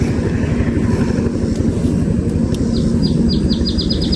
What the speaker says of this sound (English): There's like some helicopter flying around over the tree line in that field over there.